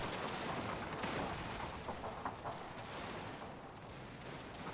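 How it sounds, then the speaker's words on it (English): Line infantry gunfire rolls through a Prussian-campaign war strategy game, dense overlapping musket volleys crackling continuously at moderate distance, with no speech. "the British might be shooting on their own here"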